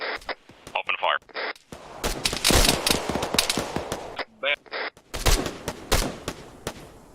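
Bursts of rapid gunfire from a patrol-op firefight break out after the order to engage, loud machine-gun style volleys mixed with radio-like voice chatter and short commands.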